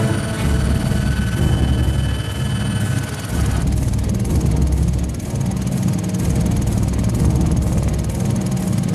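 A helicopter flying over the Amazon near the Aracá river and Serra do Aracá, its rotor and engine a loud, steady droning thrum that continues unbroken throughout with a slight shift partway.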